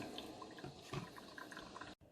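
A Braun Brewsense KF7000 drip coffee maker brewing vinegar during descaling gives soft trickling and gurgling with small drips, fairly faint, ending in a sudden brief silence.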